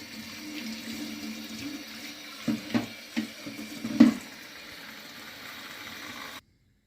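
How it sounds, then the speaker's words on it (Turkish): Fresh walnut leaves rinsed under a running tap, a steady close stream of water with a few sharper splashes and knocks as the leaves are handled, then an abrupt stop. "Taze ceviz yapraklarımızı önce güzelce yıkıyoruz"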